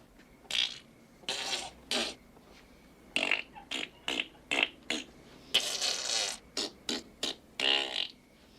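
A voice imitates farting with a series of wet, sputtering mouth noises in separate bursts, some short and some drawn out, fairly close and alone.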